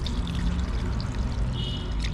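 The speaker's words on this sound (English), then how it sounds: "So I'm just going to add in water like that." Water poured into an outdoor pot of dry fish and okra, a steady close splashing pour running continuously without a break.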